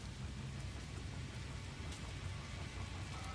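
Acid rain falls on an alien planet in the video game No Man's Sky, a steady, dense hiss of rain with a low rumble beneath, continuous and fairly quiet throughout, with no talk.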